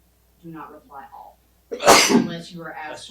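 A single loud, sharp sneeze bursts out at a town council retreat meeting, breaking into a person's spoken remarks, which carry on right afterward.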